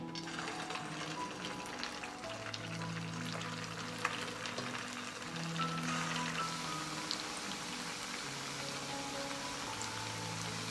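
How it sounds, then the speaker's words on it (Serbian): Potato pieces fry in hot oil in a pan, giving a steady crackling sizzle like light rain on a surface, with a faint hum running underneath and no voices. "I spuštamo krompir da se prži."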